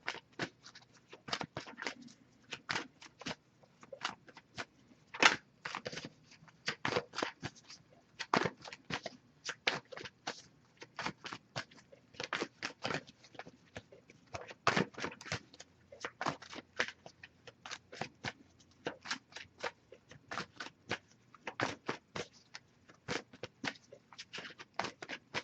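Oracle cards from a Wisdom of the Oracle deck are shuffled by hand in a quiet room, a long run of quick, close, soft riffling bursts and flicks in an uneven rhythm.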